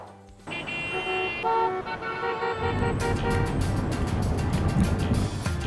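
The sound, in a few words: car horns honking in city traffic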